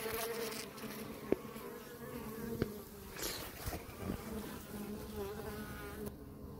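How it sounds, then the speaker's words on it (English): Steady wing buzzing from worker insects fanning to ventilate their colony, a continuous droning hum with a couple of faint clicks, no voices. "you might hear one of the workers fanning. They are using their wings to ventilate the colony"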